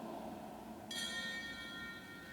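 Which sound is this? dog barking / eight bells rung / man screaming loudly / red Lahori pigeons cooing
eight bells rung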